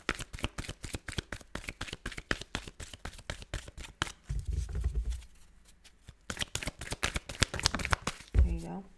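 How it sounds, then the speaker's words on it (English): Tarot cards are shuffled and drawn in quick, crisp riffling bursts with brief pauses, a voice talking over parts of the handling. "And 3rd card for Scorpio, please."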